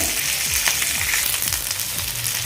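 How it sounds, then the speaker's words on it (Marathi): Mackerel (bangda) fish fillets frying in a pan, a steady, loud oil sizzle with crackling pops running throughout, no voices. "आता या साईडनेही आपण व्यवस्थित असे फ्राय करून घेऊया"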